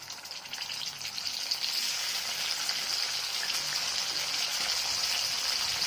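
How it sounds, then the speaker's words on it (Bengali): Two hilsa fish heads fry in hot oil with a loud, steady sizzle and crackle, close up and continuous with no talking. "মাছগুলো ভেজে নেবো।"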